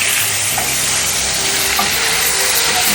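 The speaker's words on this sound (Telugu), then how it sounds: "ఒక్కసారి ఆయిల్లో వేస్తే కొంచెం పచ్చివాసన పోతాయి పన్నీర్ ముక్కలు." Paneer pieces fry in hot oil with a loud, dense, continuous sizzle and crackle, close up and steady throughout, with no talk.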